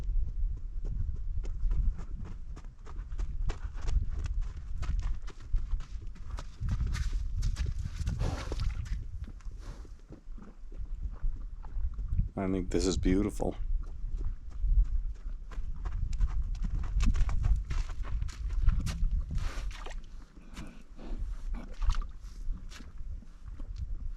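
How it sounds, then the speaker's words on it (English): Wild mustangs walk toward a desert spring in central Nevada, their hooves clopping steadily at close range over a constant outdoor rumble, with someone speaking briefly in between. "I'm going to try to keep my narration to a minimum so you can listen to these horses"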